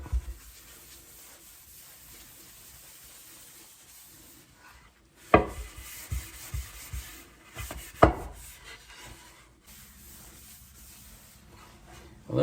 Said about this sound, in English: you're basically just going to buff your board